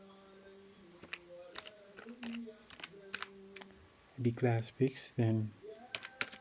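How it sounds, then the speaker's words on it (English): Keys clack on a computer keyboard as code is typed, a handful of crisp taps spaced out between a man's speech, close and fairly quiet. "so we type dim"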